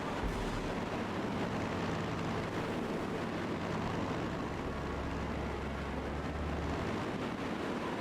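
A tactical bomber flies in the video game Strategic Mind: Spirit of Liberty, a steady, loud, broad engine roar with a deep droning hum that holds constant throughout and has no voices.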